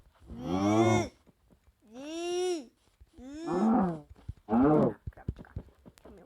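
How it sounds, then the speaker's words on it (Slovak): A cow in the Minecraft PE video game moos four times, each call short and tonal, separated by brief pauses with faint clicks and steps between them. "Kravička."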